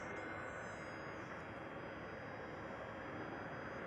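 A China Southern Cargo Boeing 777 freighter at Amsterdam Schiphol sends a steady, broad roar of jet engines across the airfield, distant and even in level, with no talk over it.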